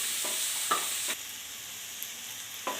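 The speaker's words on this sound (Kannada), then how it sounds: "ಸ್ಲೋ ಫ್ಲೇಮ್ ಮಾಡಿಕೊಂಡು ಕಲಿಸ್ಕೊಡ್ತಾ ಇದ್ದರೆ ಹಾಗೆ ಟೊಮೊಟೊ ಸ್ವಲ್ಪ ಇದ್ದಲ್ಲೇ ಬೇಯಬೇಕು" Tomatoes frying in oil over a slow flame in a pan for Karnataka-style bendekai palaya, a soft steady sizzle broken by a few light scrapes and taps of a stirring spoon.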